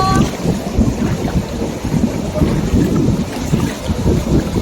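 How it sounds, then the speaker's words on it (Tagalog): Sea waves at a beach resort on the Desaru coast in Malaysia, a loud rolling surf wash mixed with wind buffeting on the microphone, steady and close. "Tapos doon kasi medyo malakas yung alon."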